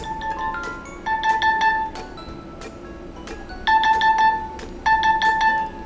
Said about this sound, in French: il y a une alarme qui se fait retentir